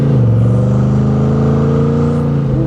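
A 1959 Austin Healey 100-6 engine revved at about half pedal, a loud close howl whose pitch climbs and holds steady, then drops briefly near the end, with no talk.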